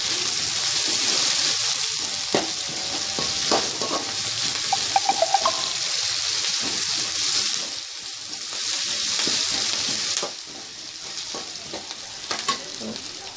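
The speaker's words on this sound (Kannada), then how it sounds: "ಈರುಳ್ಳಿ ಎಲ್ಲ ಚೆನ್ನಾಗಿ ಫ್ರೈ ಆಗಿದೆ" Onions fry and sizzle in a pan during a Karnataka-style avalakki uppittu (flattened rice) preparation, with steady hissing broken by repeated scraping stirs of a ladle, close and continuous, no voices.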